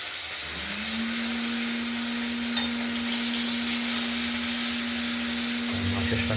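Katla fish frying in oil, a continuous close hiss and sizzle under a steady low hum, even in loudness, with no talking.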